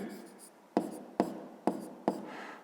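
Pen strokes on paper while working a fifth-grade maths exercise: four sharp, close scratching strokes at a steady rhythm, each starting with a crisp attack and trailing off, with a faint soft rub before the first.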